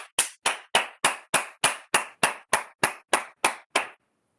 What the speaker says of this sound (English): Clap it up for yourselves, guys.